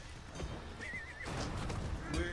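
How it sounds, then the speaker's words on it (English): A horse in the video game Diablo 4 whinnies briefly as it is mounted, a short high neigh over faint hoof noise and soft game ambience. "I'm gonna get on my horse."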